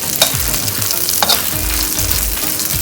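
Spices dry-roast in a pan with a steady close sizzle, broken by a couple of sharper scrapes as they are stirred, and no one talks.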